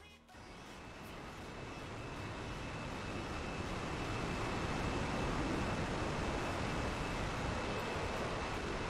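Aircraft in a formation flyby during a 6v6 flight combat game drone and rush past, the broad engine roar swelling from quiet to loud and holding steady.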